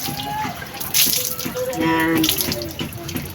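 Tap water pours into a container on a table, a close, steady splashing fill with rising gurgling tones as it fills, while someone speaks briefly.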